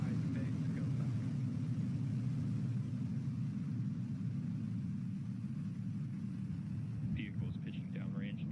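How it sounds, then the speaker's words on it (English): A Firefly rocket lifts off, its low, steady roar rumbling continuously at a distance while a voice speaks over it near the end. "Ignition. And liftoff. Go Firefly, go iSpace, go Falcon."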